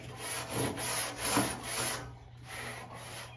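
Scraper rubbing along the side of a grill to clear off built-up gunk, a steady series of close, rasping strokes in a loose back-and-forth rhythm with no talking.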